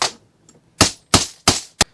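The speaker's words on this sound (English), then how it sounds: "I have this tool, so I'm going to bang that in." A bushing is hammered into place with a tool while rebuilding a Bosch VE injection pump for a 1989 Dodge Ram 5.9L Cummins: four sharp, loud metallic bangs at uneven spacing, close up with no talk.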